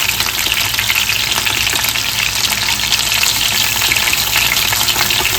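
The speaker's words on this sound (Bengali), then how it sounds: "এরকমভাবেই আমি সবকটা চিকেনই ভেজে নেব।" Chicken pieces fry in hot oil at home, a dense, even crackling sizzle that stays steady and close throughout with no talking.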